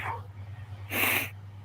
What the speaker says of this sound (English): Once I sneeze, the nose goes on a marathon.